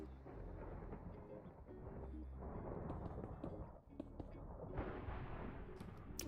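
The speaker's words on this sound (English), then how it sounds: "It's really thundering, goodness." Rolling thunder during a Minecraft thunderstorm, a deep continuous rumble with sharper cracks and crackles, heavy and sustained across the whole stretch without talking.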